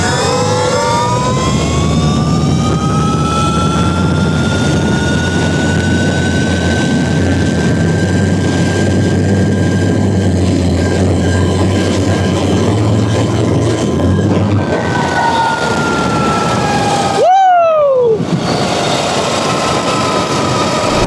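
A 72v Surron electric dirt bike with a TM25 motor makes a speed run, its whining electric drive rising and holding high and loud, then dropping off sharply and sweeping away near the end.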